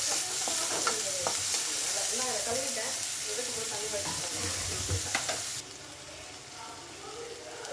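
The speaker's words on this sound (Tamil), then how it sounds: "இதை நல்லா வதக்கி விட்டுக்கலாம்" Onions sizzle and crackle in hot oil while being stirred, with scraping sounds from a spoon; the sizzling quiets toward the end.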